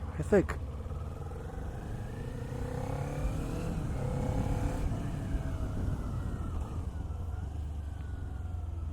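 A 2019 Kawasaki Z400 ABS motorcycle is ridden, its engine droning steadily with a gentle rise in pitch, a brief rattle at the start and a rider talking over the ride.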